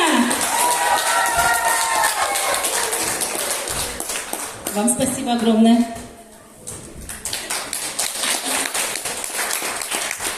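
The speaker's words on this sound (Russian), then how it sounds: "Аплодисменты!" Audience applause at a village house of culture concert closing the season, clapping and cheering from a crowd that spreads under a speaker's voice, briefly dips, then returns as steady scattered clapping.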